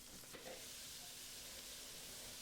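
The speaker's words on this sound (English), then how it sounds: "We salt and pepper the pieces and brown them off well on both sides." Pieces of salted and peppered osso buco brown in a crowded pan, giving a soft, steady sizzle and hiss of frying meat with no talking.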